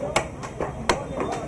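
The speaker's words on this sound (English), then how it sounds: "precise strikes of the hammer and chisel echo in the air as skilled hands carve" Hammer driving a chisel into wood while carving intricate patterns for the Puri Jagannath Rath Yatra chariot, heard as four sharp, evenly spaced knocks over a faint background murmur.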